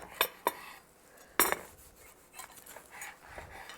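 A knife cuts into a warm baked dish, making a few sharp scraping and clinking strokes against the plate, with quieter rubbing between them, close and fairly soft.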